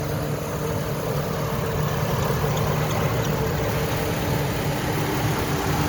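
A 2008 GMC Envoy idling with its hood open, a steady low engine hum with a faint higher whine above it, moderately quiet and continuous, no talking.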